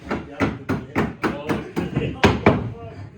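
Repeated hammer blows strike a wooden floor panel of a snowmobile in a steady rhythm, about a dozen sharp knocks, close and fairly loud.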